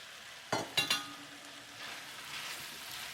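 Onions dropped into a hot pan for soy sauce spare ribs, a few sharp clattering hits followed by a soft, low sizzle that builds gently, quiet and close with no talk.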